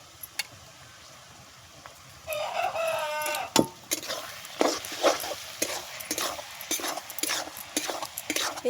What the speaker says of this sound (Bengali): পেস্টটা দিয়ে ভালো করে আবার একটু কষাবো